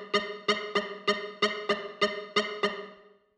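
A Boss RC-505 loop station plays a vocal loop with distortion, chorus and reverb track effects, producing a ringing, bell-like pulse repeated about nine times at an even pace before decaying into silence.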